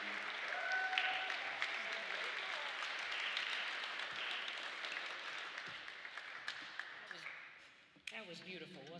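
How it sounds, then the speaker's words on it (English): A crowd at a Juneteenth jazz concert applauds warmly with cheers mixed in, the clapping holding steady before fading out near the end, when a voice starts speaking over the room. "Give them another round of applause"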